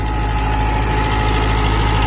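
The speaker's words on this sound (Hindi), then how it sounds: "रूटर का परफॉर्मेंस देखो, कोई आवाज है किसी तरीके की, बिल्कुल एकदम साउंड फ्री चल रहा है देखो।" A 16-year-old tractor engine runs steadily with a rotavator working a wet field, giving a loud, continuous, even drone with a constant low throb and no talking.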